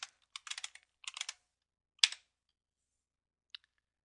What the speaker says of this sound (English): I'll sign in by entering my username and password assigned by the distributor